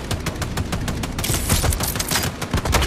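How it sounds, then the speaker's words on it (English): Rapid video game gunfire rattles off in dense, continuous bursts, loud and close, with no talking over it. "I'm shooting at it."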